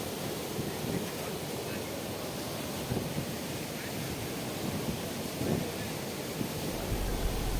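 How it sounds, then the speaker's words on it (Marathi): Strong overflow pouring across the spillway of Kalamba lake, a steady broadband rush of water, close and continuous, with gusting wind noise mixed in and no voices. "अशा प्रकारे सांडव्यावरून पाणी वाहत आहे"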